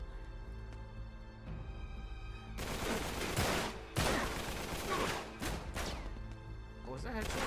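Rapid gunfire rattles in the video game Uncharted 3: Drake's Deception, loud bursts of shots and impacts starting abruptly after a quieter stretch, with a voice talking over the action.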